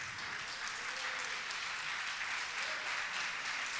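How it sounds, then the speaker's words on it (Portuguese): A church congregation applauds during a service, a steady wash of many hands clapping, fairly distant and even throughout. "Vamos aplaudir a palavra de Deus."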